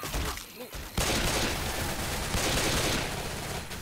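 Sustained video-game gunfire erupts after a brief quieter lull, with rapid overlapping shots forming a loud, dense fusillade that carries on to the end.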